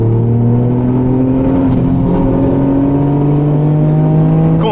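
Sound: race car driving fast on the Nürburgring

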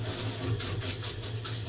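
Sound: water rinsing a child at bath time

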